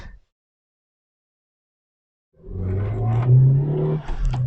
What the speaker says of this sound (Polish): wolno ssący silnik o mocy 136 koni mechanicznych